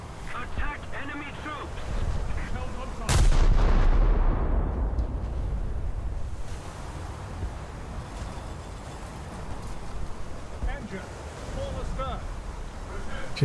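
Battleship naval gunfire in a World War-era naval video game, one loud sudden boom followed by a long fading rumble over wind and sea noise, with a voice talking around it.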